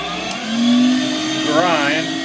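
A LEM Mighty Bite #8 500-watt electric meat grinder switches on and runs with a loud, steady motor whir, its pitch dipping and wavering as it works, with no talk over it.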